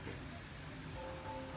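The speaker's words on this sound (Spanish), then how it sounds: "Ahí está el spray, mira, y va a quedar súper excelente." An aerosol spray hisses steadily onto a floral arrangement, a continuous close, broadband rush held for over a second with a brief extra burst partway through.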